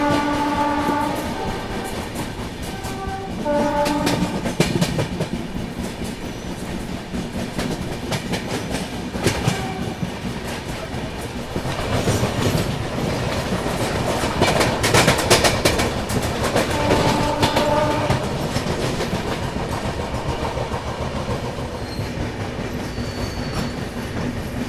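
The Maharashtra Sampark Kranti Express runs loudly along a busy section near Delhi Hazrat Nizamuddin, its wheels rumbling and clattering over the rails while a horn blares in short bursts early on and again later.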